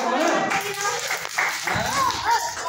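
Children clap their hands together in a brief, uneven burst of light patters during a winter rhymes-and-stories session in Bengal, mixed with lively talking and voices.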